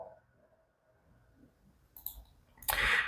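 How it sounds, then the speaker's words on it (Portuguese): A computer mouse clicks a few times, faint and sparse at first, then a louder, sharper click burst near the end, with no talking. "Você vai clicar aqui em sessão virtual."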